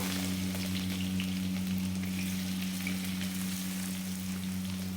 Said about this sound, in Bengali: তেল গরম হয়ে গেছে পেঁয়াজগুলো দিয়ে দেবো